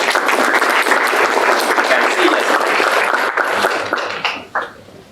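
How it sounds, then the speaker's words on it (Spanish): An audience at a closing event on Frankenstein and AI applauds three guests, with dense, loud clapping that thins out toward the end and a cough or two mixed in. "un aplauso para nuestros 3 invitados"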